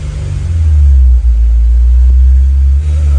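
A car engine idles steadily to break in a new clutch, a loud, close, continuous low rumble with only slight dips in level and no talk over it.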